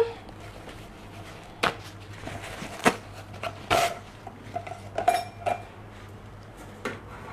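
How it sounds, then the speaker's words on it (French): Kitchen clatter as a saucepan is lifted off the stove while making a pineapple-peel, ginger and lemon drink: scattered clinks and knocks of pots and utensils, a few sharp metallic taps spread over several seconds, no talking. "On va enlever notre casserole du feu."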